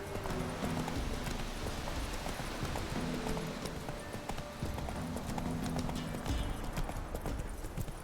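Horse hooves clip-clop in a video game, a steady rhythmic trotting of repeated hoof strikes over a constant background hum, moderately close and fairly quiet.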